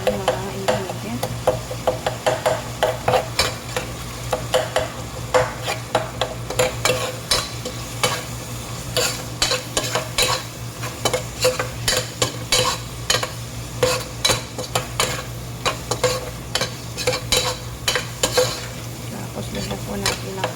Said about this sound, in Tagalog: I-mix po natin. Nalagyan natin yung mga ingredients.